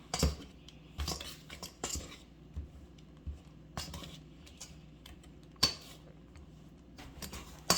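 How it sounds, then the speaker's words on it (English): Pastry cutter working Crisco into flour and salt in a bowl, giving a series of irregular metallic clinks and scraping taps at close range, with quiet pauses between bursts. "you're going to take your pastry cutter and you're going to cut the Crisco into the flour and salt"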